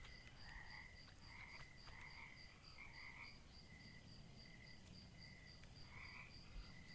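Frogs croak in a repeated, evenly paced series of short chirping calls within the Mudborne video game, with soft insect-like background ambience and no talking.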